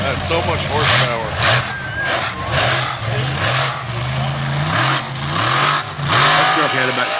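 A roughly 1,500-horsepower truck engine revs hard in repeated surges, its deep throaty drone rising and falling loudly and continuously, with voices talking over it.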